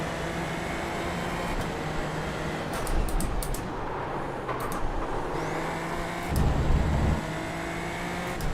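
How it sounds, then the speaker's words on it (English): Race car engine drone in a racing video game, with a few short rumbling bursts as the car rides over curbs, steady and loud with no talk. "I like the curb sounds."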